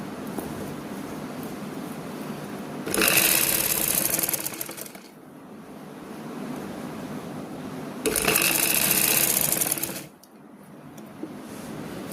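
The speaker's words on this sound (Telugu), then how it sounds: "జాగ్రత్తగా పక్కన నుంచి స్టిచ్ చేసుకుని పోవాలి." A sewing machine stitches dress sleeves in two bursts of loud, rapid mechanical whirring and clatter, each about two seconds, with a quieter hum in between.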